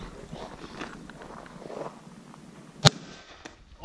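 A homemade can cannon fires a projectile with one sharp, loud pop partway through, standing out briefly over low background rustle and ambient noise.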